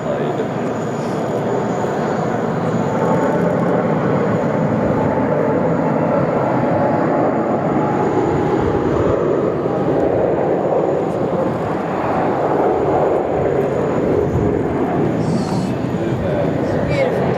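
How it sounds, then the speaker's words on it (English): A UPS Boeing 747-400 lands at Sydney Airport with a loud, continuous roar of jet engines and rushing air that swells and fades slightly across the whole stretch. "It's a 747-400 today,"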